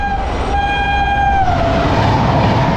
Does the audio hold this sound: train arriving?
yes